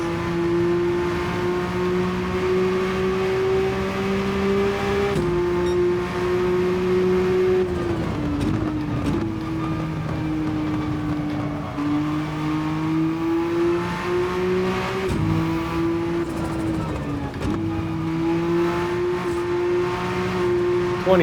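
Porsche race car at full throttle in an endurance race, its engine holding a loud, steady high-pitched drone with brief dips around gear changes, heard from on board and continuous throughout.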